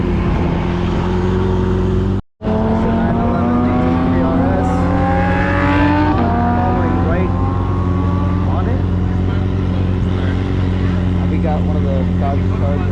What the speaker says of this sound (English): The Lamborghini passing by, the Corvette.